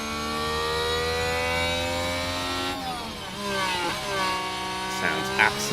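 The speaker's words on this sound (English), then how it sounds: "Hear how crap the engine sounds without any input from the battery at all." In the F1 Manager game, an Aston Martin Formula 1 car runs without battery assist, its engine giving a steady, buzzing harmonic drone that dips and climbs again as revs shift; close and sustained.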